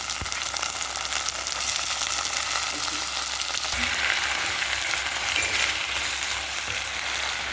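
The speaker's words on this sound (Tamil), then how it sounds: "வெங்காயம் வணங்கிச்சு, கரம் மிளகா சேர்த்துக்கலாம், கத்திரிக்காய் சேர்த்துக்கலாம்" Onion, green chili and brinjal fry in a pan for a Tamil-style brinjal tomato kadasal, a steady loud sizzle running throughout with occasional soft stirring sounds and no talking.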